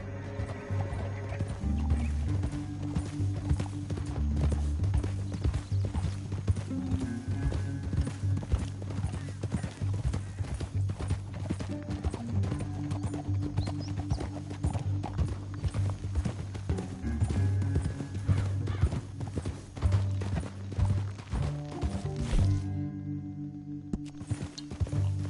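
Horse hooves pound in a steady rapid gallop under a low rumbling music bed, with occasional whinnies, continuous and busy throughout, in the video game Red Dead Redemption.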